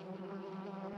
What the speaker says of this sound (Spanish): Es una casa de abejas y se llama colmena.